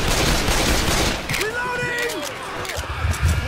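Gunfire in the zombie shooter Left 4 Dead 2: a dense fusillade of rapid shots that thins out partway through, then picks up again, with a few whistling game tones in between.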